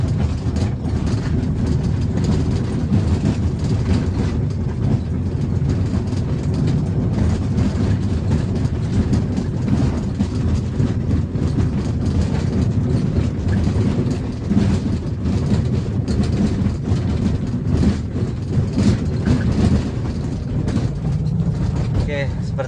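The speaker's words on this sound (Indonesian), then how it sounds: "Di bagian belakang ya sangat terasa jedek jedek seperti ini." A Toyota Avanza is driven with a knocking rear suspension, giving a continuous loud, rumbling road and cabin noise with repeated dull thumps throughout, heard from inside the car.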